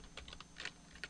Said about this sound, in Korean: 엔터를 치시고요.